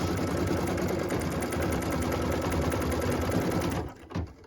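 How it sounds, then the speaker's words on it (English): An embroidery sewing machine stitches lettering onto a Christmas ornament, running with a steady rapid mechanical chatter that stops abruptly near the end, followed by a couple of soft clicks. "So what we're stitching now is those words handle with care"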